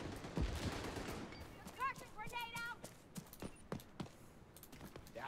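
Gunfire in a video game shooter mission, a series of sharp, fairly faint shots and short rapid bursts scattered irregularly, with voices and other game sounds in the background.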